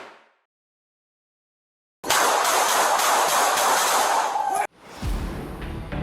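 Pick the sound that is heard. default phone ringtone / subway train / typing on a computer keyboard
subway train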